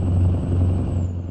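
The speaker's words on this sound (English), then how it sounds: "Let's actually listen to the Jake on this thing." A truck's Jake engine brake in Euro Truck Simulator, with the truck hauling through the Australian outback, gives a loud, steady low rumbling drone that fades slightly near the end.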